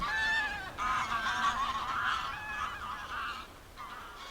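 Geese honk repeatedly while flying through mist over the Humber estuary, a chorus of nasal calls, some clear and some distant, fading toward the end with no voices.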